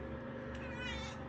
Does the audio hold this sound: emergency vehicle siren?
no